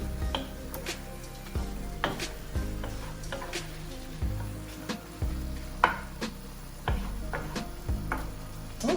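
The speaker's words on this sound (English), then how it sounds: "as you stir it around, it will wilt very quickly" Fresh spinach wilting in a hot pan for creamy garlic Tuscan shrimp, a continuous sizzle broken by regular scraping strokes of a spoon against the pan, close and clear with no voices.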